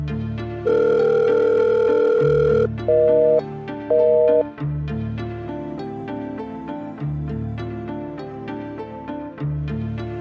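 A steady electronic telephone tone with beeping pitch changes plays loud and alone over a low background drone as a phone call is cut off.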